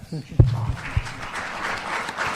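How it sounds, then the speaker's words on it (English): A brief burst of clapping from a medical conference audience rises and fades within a couple of seconds, mixed with a little murmuring. "Please, let's give him an applause for that."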